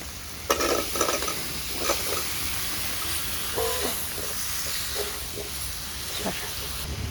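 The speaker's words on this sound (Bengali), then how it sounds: "শসাটা দিয়ে ভালো করে কষাই আনি" Cucumber is stir-fried in spiced oil, with a constant hiss and sizzle from the pan and intermittent scraping and clattering of the stirring spoon. Background noise runs underneath.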